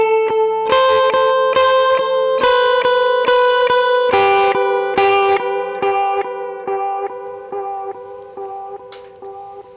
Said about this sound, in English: And it's got this aged tape sound to it,